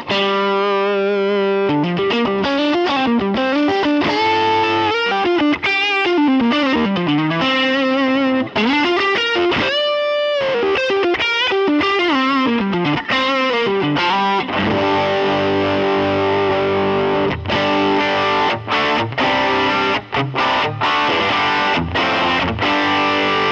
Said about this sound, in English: For some kind of really just straightforward amp tones without too much fuss.